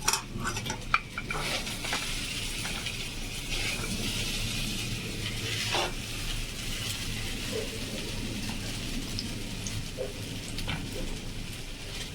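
Coconut pakoras and an okra-potato fry crackle in hot oil, a steady broadband sizzle that carries throughout, with occasional scrapes and clinks of a stirring utensil against the pan.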